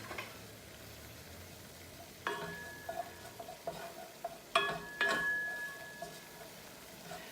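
Crushed tomatoes, garlic and red pepper simmer and sizzle quietly in olive oil, with occasional metallic spoon taps and scrapes against the pan ringing out over the low bubbling.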